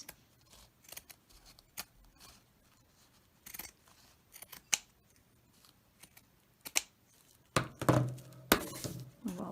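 Scissors cutting scrap fabric for a pocket purse, a few faint snips and clicks early on, then a louder cluster of crisp cutting and handling sounds near the end, close up and quiet overall.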